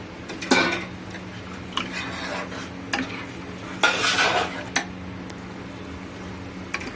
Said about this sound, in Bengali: তো দেখুন দুধটা দেওয়ার পরে ফুটে গেছে